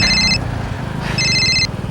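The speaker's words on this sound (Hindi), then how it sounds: "फोन आ रहा है।" A ringing mobile phone in a tense crime drama scene: two bursts of a bright electronic ringtone with a pause between, over a low background hum, with no talking.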